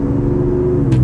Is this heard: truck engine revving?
yes